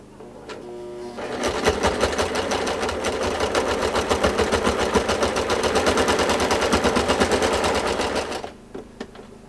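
A sewing machine quilts a baby blanket, stitching in one long, rapid, steady run for about seven seconds between short quiet pauses at either end, loud and close.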